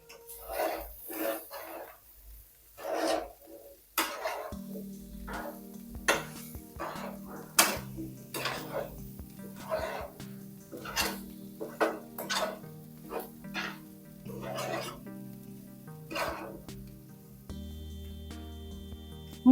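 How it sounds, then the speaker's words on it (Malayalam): A spoon stirs and scrapes rice in a metal pan, giving repeated clinks and scrapes in an irregular rhythm, close and fairly quiet, with a low steady hum in the background. "നമുക്കിതെല്ലാം നല്ലതുപോലെ ഒന്ന് മിക്സ് ചെയ്യേ."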